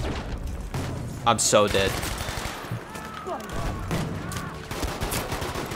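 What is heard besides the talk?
hip fire gunfire in video game Battlefield 5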